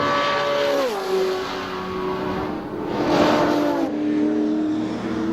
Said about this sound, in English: This is probably one of the best sounding V8 Commodores.